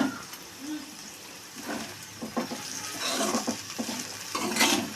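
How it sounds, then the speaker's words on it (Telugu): Green beans stir-fry in a pan with onion and masala for a beans curry, a soft sizzle broken by spatula scrapes and stirring clatter, with a person speaking over it. "ఆ తర్వాత మనం బీన్స్ వేసి కొంచెం సేపు వేయించుకోవాలండి"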